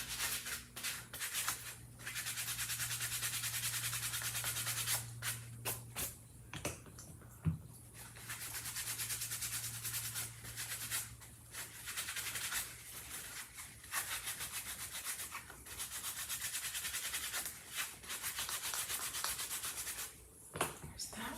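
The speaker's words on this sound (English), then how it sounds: "So I'm going to turn this inside out." Cloth rubbing and buffing an item, a steady hissing scrub in long continuous strokes with brief pauses between, close and soft over a low hum.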